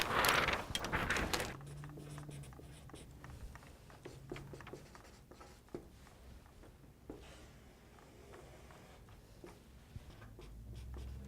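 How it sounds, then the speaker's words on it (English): A graph being drawn by hand, with scratchy pen strokes that are loudest in the first second or so, then quieter intermittent strokes and taps that continue close by. "So I'm going to draw a different graph here."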